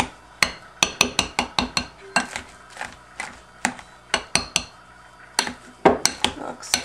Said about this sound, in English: And then you're just gonna keep mixing.